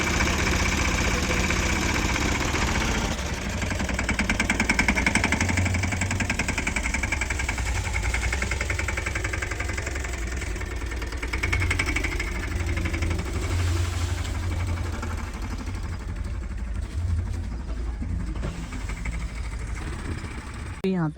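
A tractor idles with a steady low rumble and rattle for the whole stretch. People talk over it at times.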